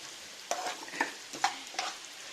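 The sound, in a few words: roasting coconut being stirred in a pan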